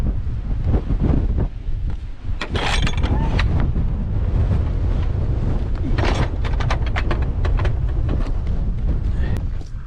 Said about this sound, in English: it's very windy and it's making it feel very cold